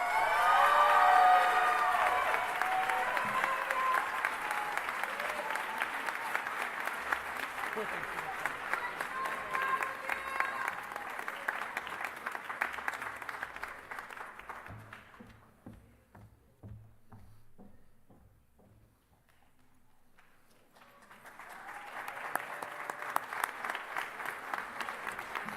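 Audience applause at a senior honors night, sustained and dense for about fifteen seconds, dipping to near quiet with a faint voice, then swelling into a second round of clapping.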